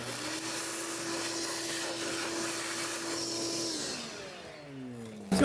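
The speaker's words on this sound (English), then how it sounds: "So I'm just going to use a vacuum." A vacuum cleaner sucks dirt out of a 2011-2015 Chevrolet Volt's engine airbox, a loud steady whine that drops in pitch and winds down near the end before a sharp bump.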